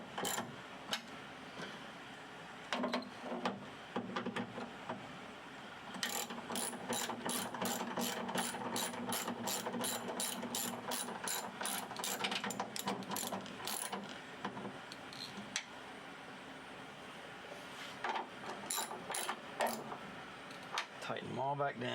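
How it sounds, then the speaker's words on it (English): A ratchet wrench tightens screws back down on a car after a key fob, trunk switch and cabin air filter job, giving bursts of rapid, close clicking that start and stop repeatedly, with short pauses between turns. "Tighten them all back down."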